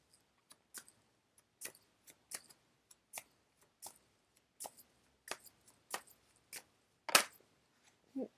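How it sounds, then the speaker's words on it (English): A deck of angel cards being shuffled by hand, heard as a string of soft, separate snaps and flicks at an uneven pace, quiet and close, with no talking. "This really awkward shuffling."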